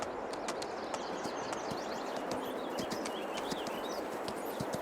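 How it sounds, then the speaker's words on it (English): A horse named Taylor being ridden for daily exercise on a Missouri farm in Farming Simulator 22, with soft steady hoof clip-clops under a continuous bed of chirping birds, all fairly quiet and without talk. "I'm exercising Taylor. He's the last horse to get his daily riding in for the day."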